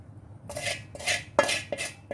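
A thin-walled pan holding fried paneer is handled with four or five bright metallic scrapes and clinks of a spoon against it, spaced about half a second apart, close and clear with no talking.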